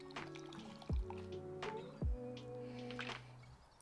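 Freshly brewed pour-over coffee swirls in a Fellow Stagg X brewer, giving a soft sloshing liquid sound with a few sharp low knocks.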